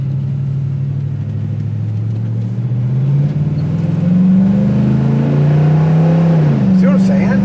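A 1969 Pontiac Firebird convertible muscle car drives down the road, its engine droning steadily and rising in pitch as it accelerates, close and fairly loud, with people talking over it.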